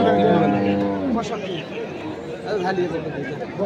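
A meat bull lows once near the start at a busy Chattogram cattle market, and people talk and chatter all around throughout.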